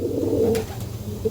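Andhra breed pigeons kept for sale coo softly in a short, close, low burst of throaty calls with faint background noise.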